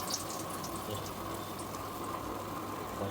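Tap water runs steadily while hands are wetted for shaping masala vada dough in a home kitchen, a close, continuous splashing hiss with no voices.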